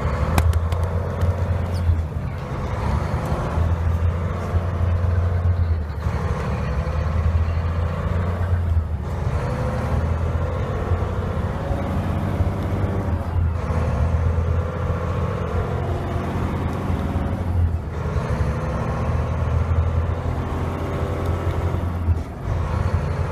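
Volvo truck with I-shift automated manual transmission driving in manual mode, a steady low diesel engine drone with road noise and periodic dips as gears change, heard from the cab without talk.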